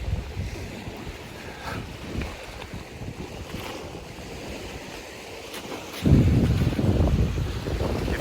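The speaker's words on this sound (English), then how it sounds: "Hope the wind drops off again." Wind buffeting the microphone with waves washing nearby in the Scottish Highlands, a steady rushing background that swells into a heavy low gust near the end, no talking.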